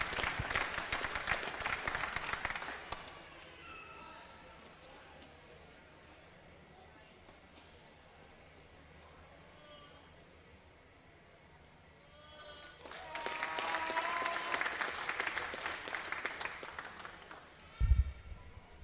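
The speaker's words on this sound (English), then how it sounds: "let's give these guys a big round of applause" An audience at a state fair FFA livestock show claps in two bursts, the first fading after a few seconds, then quieter talk over the arena, then a second round of applause.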